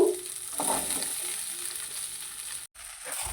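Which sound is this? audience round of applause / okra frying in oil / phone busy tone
okra frying in oil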